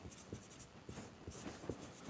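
A pen scratches and taps on paper or a board while someone writes out a math formula, in short strokes with small gaps, close and quiet.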